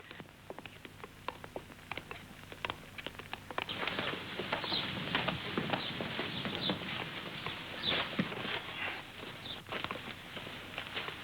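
A horse's hooves clip-clop on a street, at first sparse and separate, then a quicker, denser patter of steps at moderate distance, with no talk over it.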